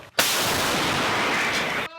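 A heavy 152 mm artillery gun fires one deafening blast that roars on for nearly two seconds before cutting off abruptly.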